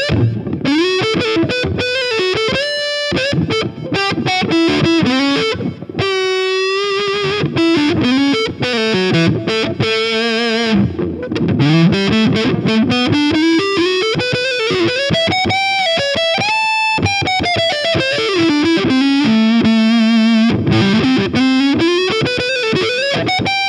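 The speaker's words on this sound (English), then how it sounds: "Now we'll switch over to the front pickup, roll off the tone, and see if we can get that nice old woman tone happening out of this." Electric guitar on the front pickup with the tone rolled off runs through a '41 Willys distortion pedal, playing a continuous, loud, saturated phrase of sliding bends and sustained fuzzy notes with no talking.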